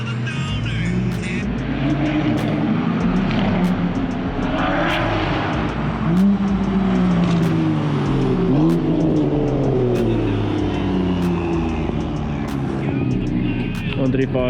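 Volkswagen Polo Vivo cars racing and doing stunts at a South African event, with loud, continuous engine roar and rising and falling revs, nearby crowd noise and people talking over it.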